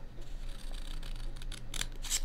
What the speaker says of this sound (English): It's then at this point that you get your scissors,